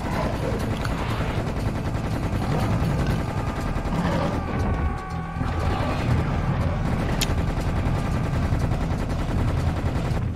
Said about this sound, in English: If you have no ammo, shoot them with your pistol